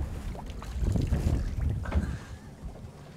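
Aboard a boat on the water, a steady low rush of wind and water carries bumps and buffeting from the wind on the microphone, with no speech.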